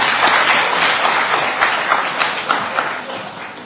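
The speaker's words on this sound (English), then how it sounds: "let us clap for him" An audience at a World Entrepreneurs' Day celebration at Manipur University claps for a guest, a steady mid-level spatter of hands with a few sharper claps standing out, no talking over it.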